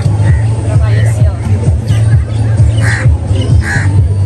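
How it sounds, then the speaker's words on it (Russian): Crows caw in short, loud calls while being fed by hand outdoors in Dubai, several calls scattered over a low rumble of nearby crowd chatter and talk. "Она ловит этих самых ворон, да."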